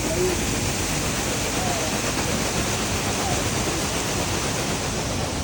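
Water runs steadily at a gold panning station in a Swedish town market, a dense, even rushing wash that fills the whole clip loudly and without pause.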